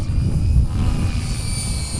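A Gaui X5 RC helicopter flies in strong wind, its rotor and motor giving a steady, loud droning whir with a high whine on top, continuous and fairly close.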